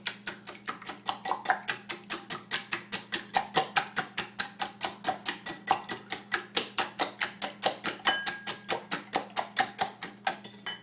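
Eggs, milk and cheese being beaten for a soufflé, a fast even series of loud rhythmic taps as a whisk or fork strikes the bowl, close and continuous with no talk.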